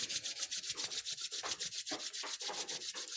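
Palms rubbed briskly together, a close, quiet rhythmic swishing of skin on skin repeating evenly several times a second.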